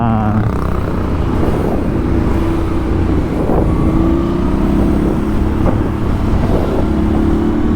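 A motorcycle in second gear threads through busy capital-city traffic, a loud, close, continuous engine drone with wind rush and slight revving swells throughout.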